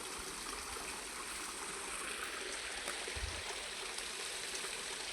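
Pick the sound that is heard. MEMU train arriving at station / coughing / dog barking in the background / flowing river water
flowing river water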